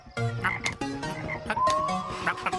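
A cartoon character in a children's animated episode croaks repeatedly like a frog, a voice imitating frog calls in a quick, uneven series of close, moderately loud croaks with no other talk.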